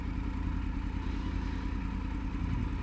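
A motorcycle engine on a ride through Walton on the Naze, Essex, with a steady, close, loud low rumble that holds constant throughout, no clear rev peaks standing out.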